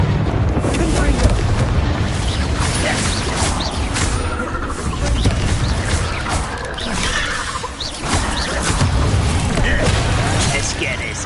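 Confringo explosive spell blasts in the video game Hogwarts Legacy, loud booming bursts and crashes that run continuously through heavy combat noise, with a voice calling out spells.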